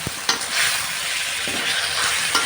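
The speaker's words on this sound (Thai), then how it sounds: "แล้วก็ผัดไปกับพริกแกะแอพริกขี้หนูเลยนะคะ" Catfish stir-fried in a pan with chilies hisses in a loud, continuous sizzle, with a few sharp scrapes and clinks of the utensil stirring.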